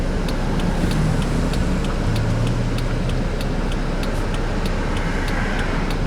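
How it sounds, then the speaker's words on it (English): Steady road traffic rumbling near a river, with a continuous broadband wash of passing cars and heavier vehicles and a low engine drone, loud and unbroken throughout with no talk. "Holy traffic."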